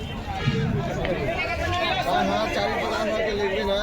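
Dense crowd chatter fills a busy vegetable market in Kawardha, a continuous hubbub of many overlapping voices close around, with traders and shoppers talking steadily throughout.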